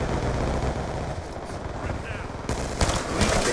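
Rapid gunfire rattles in a first-person capture-the-flag video game, steady bursts under a player's voice, fairly loud throughout the short stretch.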